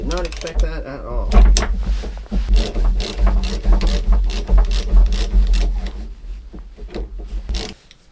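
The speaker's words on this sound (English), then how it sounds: "this is my expanded collapsy ratchet" Extendable ratchet wrench loosening a big shackle on a boat, rapid clicking pawl bursts close up with metallic rattling and scraping, while someone talks over part of it.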